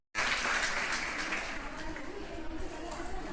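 Audience applause in Jubilee Hall at a student honouring ceremony, sudden dense clapping that starts at once and then thins slightly, steady and close.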